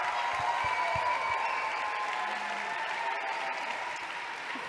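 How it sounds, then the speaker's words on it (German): An audience applauds the participants of a song contest final on stage, a broad, steady clapping wash from a large hall, holding evenly and tapering slightly toward the end. "aber den Applaus bekommt ihr jetzt schon"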